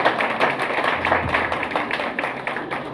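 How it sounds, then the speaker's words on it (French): Audience at a Haitian political party's tenth anniversary celebration claps, scattered and uneven hand clapping at moderate volume over background crowd noise. "On applaudit messieurs ça."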